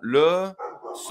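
A dog gives a single short, high yelp close by, immediately followed by someone speaking French.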